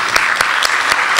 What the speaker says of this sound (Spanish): Y con un fuerte aplauso